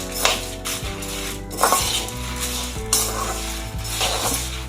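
Roasted dosa podi spices with asafoetida and salt are stirred in a pan, producing close scraping sweeps and light clinks of the spoon at a steady rhythm over a soft dry sizzle, without speech.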